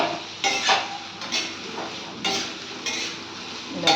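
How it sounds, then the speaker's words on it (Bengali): Pumpkin and bitter gourd frying in fish oil with split green chillies, a continuous sizzle broken by several clattering stirs of a utensil against the pan. "কুমড়ো করলা মাছের তেল দিয়ে ভাজা।"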